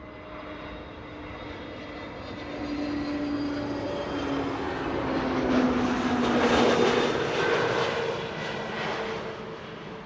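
A Delta Airlines A330neo airliner arriving at Amsterdam Schiphol produces a rising and falling jet engine rumble with whining tones, swelling as it passes nearest mid-way and easing off after, heard alone at moderate distance.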